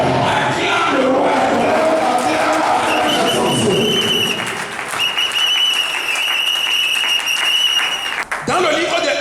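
A church congregation bursts into loud, sustained applause and cheering with shouts, the clapping dense and close, thinning briefly near the end before rising again.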